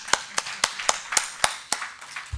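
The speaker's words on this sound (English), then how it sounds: "This is an applause for yourself." Clapping at an animal welfare training seminar, about nine distinct, evenly spaced claps from one or a few people, fairly quiet and close.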